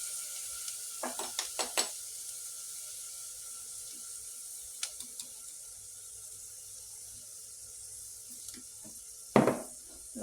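Chickpeas are stirred in a pan, giving a faint, low sizzle with scattered scraping and clinking stirs, a cluster early on and a louder burst of movement near the end.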